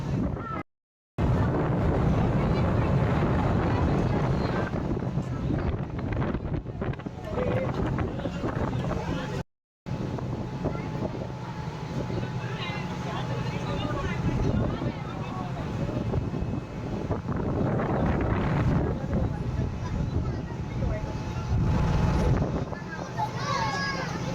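A boat crosses from Bhayandar to Vasai jetty, its engine drone mixing with heavy wind buffeting and splashing water, while people, including children, talk throughout and two brief dropouts cut the sound.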